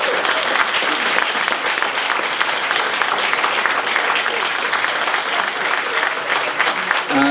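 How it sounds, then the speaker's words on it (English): A concert audience at a tribute concert in South Sligo applauds for a bodhrán teacher, a dense continuous wash of clapping from a full hall, loud and sustained throughout. "So give Joe a round of applause."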